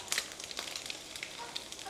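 An egg frying in a pan for the dogs, giving a soft, steady sizzle with faint crackles close by.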